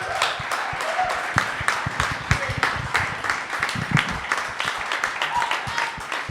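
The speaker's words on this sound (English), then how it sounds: "Let's give all of our candidates a round of applause." An audience at an election candidates event claps in a dense, steady round of applause lasting several seconds, with voices faintly mixed in underneath.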